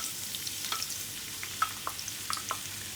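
Sliced onions dropped into hot oil for qeema chaney, giving a soft, steady sizzle with a few light crackles and stirring ticks, fairly quiet and with no talking.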